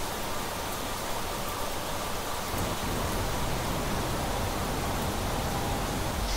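Heavy rain pours down in the video game Planet Crafter as a constant dense hiss. A low rumble swells midway, and there are no voices.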